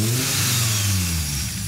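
A car engine, on a car being looked at among a Subaru Legacy, Audi 80 and Alfa Romeo, revs loudly and close right after starting, a rough steady drone that rises and sags with throttle.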